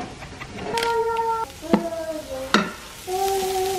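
Partly frozen meat sautéing in a hot pan with garlic powder and oregano, a steady sizzle broken by sharp spatula taps and squeaky scraping strokes as it is stirred and broken up.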